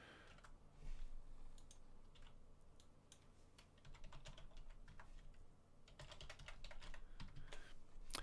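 Computer keyboard typing while entering a new password, a steady run of quiet, close key clicks with brief pauses and bursts of faster strokes throughout.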